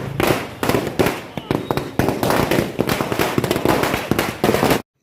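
Firecrackers burst in rapid, loud strings at an AIMIM election victory celebration in Kishanganj, Bihar. The crackling goes on almost without a break over crowd voices, then stops suddenly.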